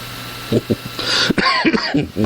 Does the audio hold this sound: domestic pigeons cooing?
no